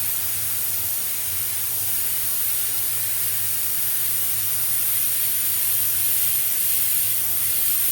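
An airbrush sprays paint onto a Boosa tank while a large spider design is laid on, giving a steady, close, unbroken hiss with a faint low hum beneath, and no voices.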